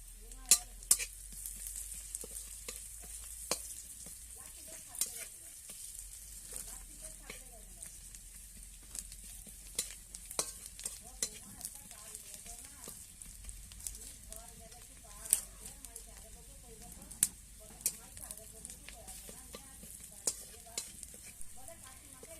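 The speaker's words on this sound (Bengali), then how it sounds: "পেঁয়াজটা ভাজা ভাজা হয়ে গেছে।" Onions frying with turmeric and dried chili powder, a steady sizzle running throughout with scattered sharp crackles and spatula scrapes from stirring; some quiet speech sits faintly in the background.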